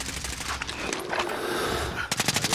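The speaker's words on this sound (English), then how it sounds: "I'm getting shot from behind." Gunfire rattles in a first-person shooter video game, with rapid automatic bursts and scattered single shots, loud and close, followed by a fast volley near the end.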